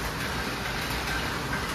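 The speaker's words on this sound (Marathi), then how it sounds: "खतरनाक पाऊस चालू झाला बा" Heavy rain pours steadily during a downpour at a farm field, a dense continuous hiss that stays loud and even throughout with no voices.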